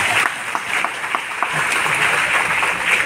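Sustained audience applause at a Hindi kavi sammelan poetry recital, steady dense clapping from a crowd throughout, with scattered louder individual claps standing out.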